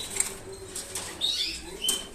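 Quick bursts of a canary's fluttering wings close by as it is caught by hand, mixed with faint thin chirps and light scuffling, repeating several times in a short stretch.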